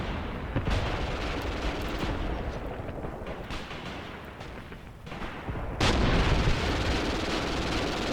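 MG42 machine guns chattering in a WWII Eastern Front video game battle with a sound mod, a dense, continuous roar of gunfire and distant booms, loud and steady with a sharp surge midway, no talking.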